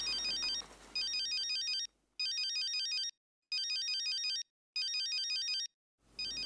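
A phone rings in an office scene, sounding a repeating electronic ringtone in four distinct bursts separated by short silences, clear and fairly loud, with no talk over it.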